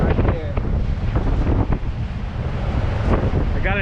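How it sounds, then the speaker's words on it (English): Strong wind buffets the microphone while waves wash around a small fishing boat on open water, making a loud, steady roar throughout with no clear talk. "I'm in here out of the wind right now."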